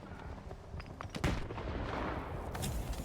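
Gunfire in the video game STALKER 2, several sharp shots and short bursts cracking out in quick succession, loud and close with a busy rumbling background and no talking.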